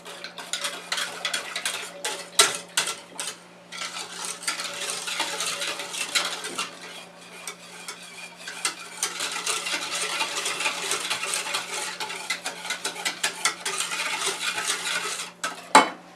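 Vanilla pudding ingredients mixed in a bowl with a utensil, giving steady scraping and clinking of metal against the bowl for about sixteen seconds, with a brief pause near the four-second mark and a louder knock at the end.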